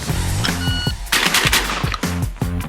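Rapid shots from a Benelli Montefeltro 12 gauge semi-automatic shotgun during speed shooting, several loud booming reports in quick succession with short splits, close and dominant.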